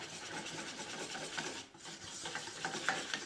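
Melted chocolate and butter being stirred together in a bowl, a soft continuous rubbing and scraping with a brief pause midway, quiet and close.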